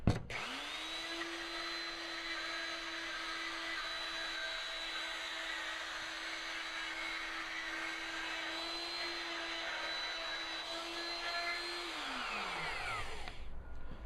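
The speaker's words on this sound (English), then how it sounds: "stick the pin in the hole, spin the router around, and we will come out with the" A woodworking router spinning around a pin to cut a speaker ring hole whines at a constant high pitch with broadband cutting noise, holding steady close up for about twelve seconds before winding down.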